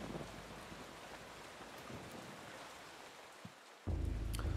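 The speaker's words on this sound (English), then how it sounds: "It's raining outside." Steady rain falls outside in the Eternal Darkness: Sanity's Requiem game, a constant even hiss with a low rumble, ending in a sudden louder low drone.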